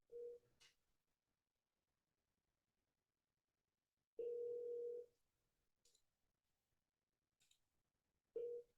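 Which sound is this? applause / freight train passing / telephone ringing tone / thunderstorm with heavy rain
telephone ringing tone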